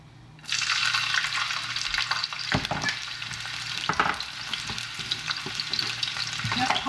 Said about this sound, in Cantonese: 好啦，個鑊熱啦，就爆香呢1湯匙嘅乾葱蓉